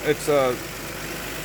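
An old Isuzu engine runs on its first start after exhaust stud and coolant line work: a low, steady idle rumble continues after a brief spoken word at the start.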